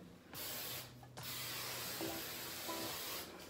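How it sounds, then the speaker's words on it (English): Two bursts of hairspray hiss from an aerosol can, the first long and steady, the second starting after a short pause, close to the mic with no talking. "this is just hairspray, and like spray it in place"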